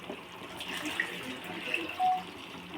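Water is poured into a pot of chicken sambar, a soft, faint steady trickle close by with a brief louder splash near the end, no talk.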